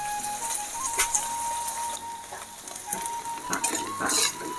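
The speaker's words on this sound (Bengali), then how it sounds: "মশলা দিয়ে আমি শুটকি মাছটা একবারে ভাজা করে নিচ্ছি আর মোটামুটি ভাজাটা হয়ে গেছে" Dried fish (shutki) frying with spices in a pan, a close, steady sizzle broken by metal utensil clinks and scraping stirs.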